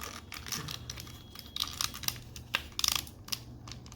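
Plastic parts of a Transformers Studio Series 86-07 Dinobot Slag toy snapping together, a quick run of close, sharp clicks and taps without speech.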